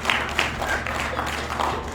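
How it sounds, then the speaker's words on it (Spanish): A congregation applauding at a church service, a dense steady wash of clapping that stays even throughout. "Denle fuerte el aplauso."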